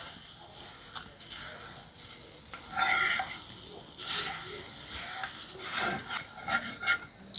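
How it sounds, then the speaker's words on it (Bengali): A paste of milk and puffed rice is worked into flour in a pan, giving soft irregular rubbing and scraping strokes from the spoon, with some louder rasping passes near the middle and the end. "খুব ভালোভাবে মিশিয়ে নেব এই ময়দার সঙ্গে।"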